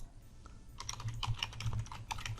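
Fingers type on a computer keyboard in quick, close, crisp key clicks, a short irregular burst with no voices over it.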